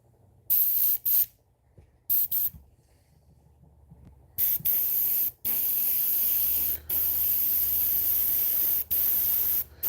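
Fishing lures spray painted in chartreuse, with loud, close hissing aerosol bursts of varying length separated by short silences, the later bursts longer and nearly continuous.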